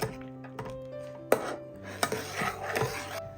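Milk and china grass are stirred in a pan, giving intermittent scraping and clinking of a spoon against the metal with a few sharper knocks, close and clear.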